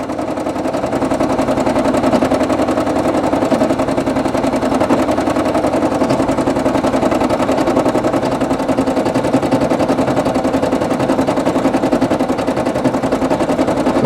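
A Brother PE800 embroidery machine stitches out small finger details of a design, its needle clattering in a fast, steady mechanical rhythm at close range, loud and continuous with no talk over it.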